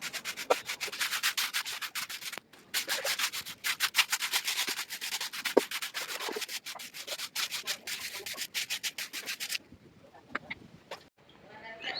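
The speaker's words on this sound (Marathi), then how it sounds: "ही इथे थोडीफार जी घाण दिसते ना ते आता मी झाडून घेते" A broom sweeps a hard floor in quick scratchy strokes with brief pauses, close up; a voice talks in between and the strokes fade near the end.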